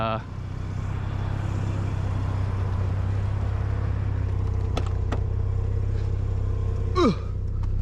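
A Mazda RX-7 FC, just repaired after a water pump fault, drives along with a steady low engine rumble and road noise, close and continuous, with a brief higher whine near the end.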